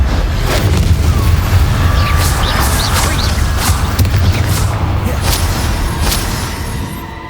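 Bombarda explosion spell in the video game Hogwarts Legacy, loud booming blasts with repeated sharp cracks and bursts over a heavy rumbling bed, fading slightly toward the end.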